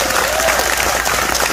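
A crowd at an Islamic religious gathering in Changhua, Taiwan, applauds loudly and steadily, dense clapping filling the whole stretch without pause.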